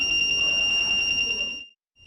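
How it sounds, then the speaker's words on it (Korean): A lipstick-shaped personal safety alarm, rated at 90 decibels once its cap is opened, emits a loud, shrill, steady pulsing electronic tone that cuts off abruptly near the end, then briefly resumes faintly. "립스틱처럼 생긴 호신용품은 뚜껑을 열면 90데시벨의 경보음이 울리고"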